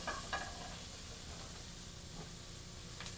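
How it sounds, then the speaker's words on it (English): Julienned hot peppers sizzling in a pan, a soft, steady hiss of frying with a few faint scrapes near the start and end, quiet and continuous. "I'm going to julienne up these hot peppers. I'm going to break them down a little bit in the pan here."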